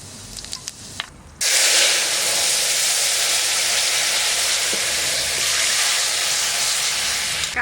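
Dry red chillies and cumin seeds hit hot mustard oil with a sudden loud, steady sizzle that fills the pan and holds strongly without letup after a brief quieter moment.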